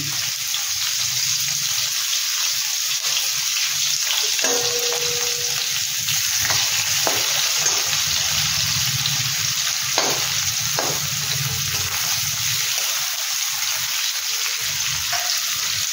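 A medium onion fries in hot oil in a pan while fish is being cooked, giving a loud, steady sizzle with occasional stirring clinks and scrapes near at hand.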